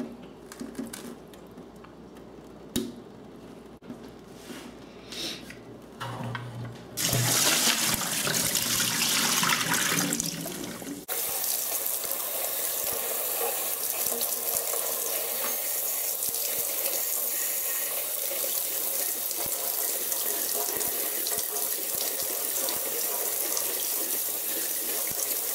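Tap water runs steadily into a sink while parts of an Aerogarden indoor hydroponic strawberry grower are rinsed, the flow becoming a loud, close, continuous gush partway through with no talking.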